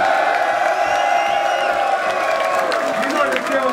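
Crowd at a Don't Flop rap battle at Ministry of Sound, London, cheering, whooping and shouting in a loud, continuous roar with some clapping, close and filling the room.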